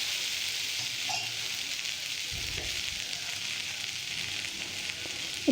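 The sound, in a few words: raw plantain sautéing in a pan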